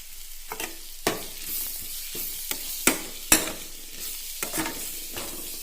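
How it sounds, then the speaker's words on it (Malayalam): Bitter gourd stir-frying in a pan with coconut oil just added: soft continuous sizzle broken by several sharp scraping clatters of a spoon against the pan, close and alone. "ഈ സമയത്ത് നമുക്കിതിലേക്ക് കുറച്ച് 1 ടേബിൾ സ്പൂൺ വെളിച്ചെണ്ണ ഒഴിച്ചു കൊടുക്കാം"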